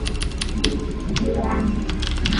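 Rapid, crisp clicks of typing on a Leopold FC750R tenkeyless mechanical keyboard with blue switches, close and continuous over a low background.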